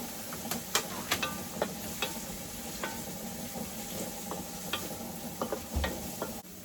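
Garlic sautés with translucent onion in a pan for a pork menudo stew, giving a steady soft sizzle broken by scattered clicks and scrapes of stirring; no one speaks.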